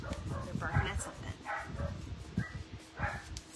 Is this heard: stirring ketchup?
no